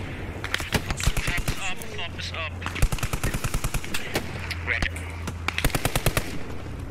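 Rapid automatic gunfire and rifle shots in the World War II shooter game Post Scriptum, loud dense bursts and single cracks fired in quick succession during a trench fight, with a voice calling out over the shooting.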